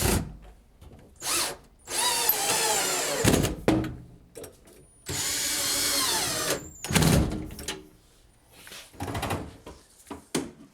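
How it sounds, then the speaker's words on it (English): A power drill drives screws to join maple cabinets together, with several loud bursts of whirring and buzzing separated by brief pauses, plus clicks and knocks of handling, close and alone. "then we'll use screws to secure the cabinets together"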